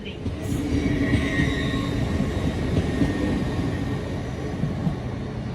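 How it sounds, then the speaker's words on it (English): An LNER train at a Doncaster station platform rumbles steadily and loudly throughout, with metallic wheel and rail noise and faint high squeals over a continuous low drone. "The train at platform 8 is the 13:15 LNER Zuma service to Leeds"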